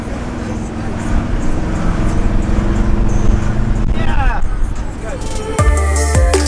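A 1961 Lincoln Continental rumbles along steadily, its broad engine and road noise loud and close, with a brief squeal and a sharp shift in sound near the end.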